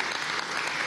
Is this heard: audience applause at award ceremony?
yes